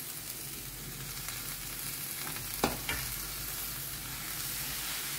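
Spinach being stirred into cooked masala in a pan, a constant close sizzle with scraping stirring and a pair of distinct spatula knocks midway, no voices.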